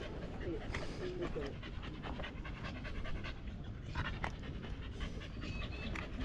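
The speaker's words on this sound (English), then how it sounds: "Silly dog." Dog panting in rapid, steady breaths at an outdoor motorcycle and sidecar display, moderately close, with people talking nearby throughout.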